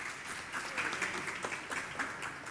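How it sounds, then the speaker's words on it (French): Medical students and trainees applaud the volunteer learners at a paediatric emergency training session, a short, moderate burst of clapping from a small room. "Alors applaudissons nos apprenants qui est volontaire."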